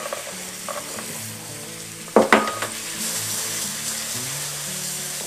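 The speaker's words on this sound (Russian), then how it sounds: "Жарим с каждой стороны в среднем по пару минут" Pineapple and bananas fry in caramel sauce in a pan, a steady sizzle with a sharp burst of louder spitting and clatter midway as the fruit is stirred or turned, then settling back to constant frying.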